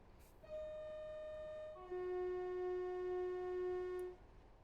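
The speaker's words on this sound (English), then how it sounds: "Oh, there's another train coming." A train horn sounds in the train simulator World Train Sim 5 on the Derby to Nottingham line: a steady tone that shifts to a lower, louder second note, held for several seconds before cutting off.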